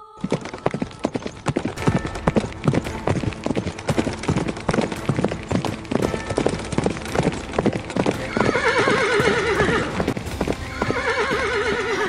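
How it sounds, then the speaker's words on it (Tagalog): Several horses being ridden, their hooves clip-clopping in a brisk, steady rhythm close by, with whinnies and neighs rising over the hoofbeats near the end. "Mas magiging madali nga nilang mararating ang lugar na sinasabi ni Mulong kung gamit nila ang mga kabayo"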